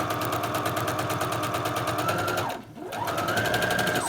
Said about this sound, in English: I'm just going to stitch off.